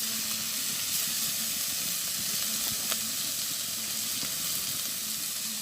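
Spices with salt, turmeric and ground dried chilli frying in oil, giving a steady, close sizzle and hiss throughout, with a few faint stirring scrapes.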